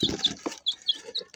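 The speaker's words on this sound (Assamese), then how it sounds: "এইটো মুৰ্গী।" On a poultry farm raising turkey chicks, a chicken gives a few close, short clucks, with sharp high peeps from chicks scattered between them.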